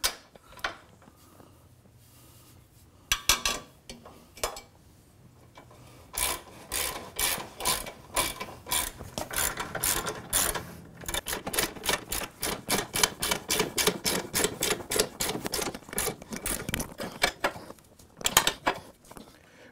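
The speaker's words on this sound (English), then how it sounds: "Now we're going to be using our ratchet and 3/4 socket on one side" Ratchet with a 3/4 socket tightening a trailer hitch nut on a Can-Am Spyder RT, rapid close clicking in irregular bursts that speed into long steady runs of pawl ticks, with no talking.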